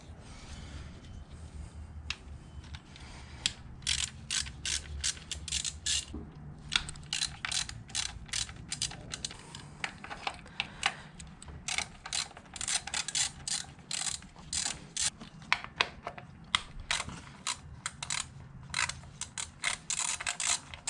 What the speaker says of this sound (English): Here's the 3/8 ratchet with a 10mm long socket.